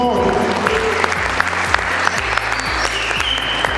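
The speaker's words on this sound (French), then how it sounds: "Et applaudi très fort pour les partisans du contre" Enthusiastic applause from an audience at a student debate event, dense sustained clapping close and loud throughout, with a voice speaking over it.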